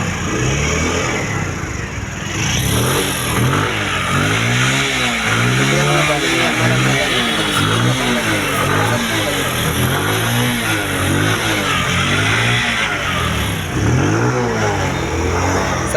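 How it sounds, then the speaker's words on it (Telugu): A Bajaj CT 100 BS4 motorcycle is kick-started and revved at a sales yard, its engine rising and falling in repeated loud, close throttle blips over a steady idle. "ఇక స్టార్ట్ చేసి చూపిస్తాను ఒకసారి బండి కూడా చూడండి"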